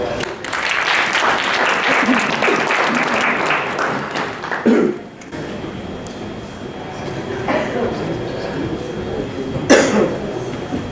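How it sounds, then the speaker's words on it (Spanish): Audience at an international chiropractic congress applauding a speaker's talk: a dense burst of clapping for about five seconds fades into room noise with coughs and throat clearing, and voices murmur faintly underneath. "Un aplauso a nuestro..."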